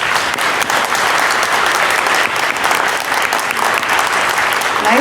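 Dense, sustained applause and cheering fill a middle school eighth grade promotion ceremony, a loud crowd clapping steadily with no letup.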